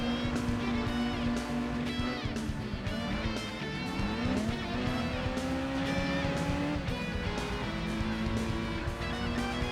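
A modified Spoon Honda S2000 race car in Gran Turismo 2 drives hard with a steady, loud engine whine that climbs and drops through repeated gear shifts, with tire squeal throughout and no talking.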